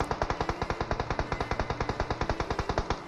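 Rapid automatic gunfire in a mobile battle-royale shooter game, coming from behind: a steady stream of sharp, evenly spaced shots, about ten per second, loud and continuous throughout with no voices.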